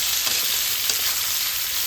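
Potatoes fried until reddish, joined by ridge gourd in a hot pan, sizzle in a steady bright crackle with faint stirring, close and alone with no voices.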